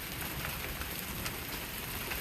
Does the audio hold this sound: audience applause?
no